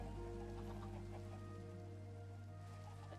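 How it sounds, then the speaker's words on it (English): Rain falling in Minecraft, a steady soft hiss of drops that runs unbroken and fairly quiet under a low constant hum. "It's raining even."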